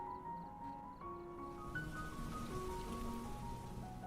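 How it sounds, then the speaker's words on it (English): Steady rain patters down on a surface, a dense, even hiss of drops at moderate distance, with faint tonal hums running underneath and no voices. "The sound of the rain seemed to wake Lily."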